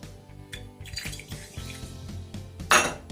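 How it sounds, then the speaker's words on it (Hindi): A kadhai is set down on a gas stove with dull metallic knocks and clinks, followed by a splashy pour as spoonfuls of oil go in, ending in a brief louder rush near the end. "अब हम गैस ऑन करेंगे, कढ़ाई रखेंगे, उसमें 3 चम्मच तेल डाल देते हैं"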